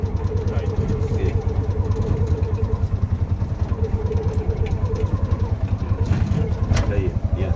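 A toktok auto rickshaw engine chugs steadily as it moves forward, a loud, close, rhythmic mid-pitched putter that pulses evenly throughout with the throttle held, with a voice briefly audible near the end.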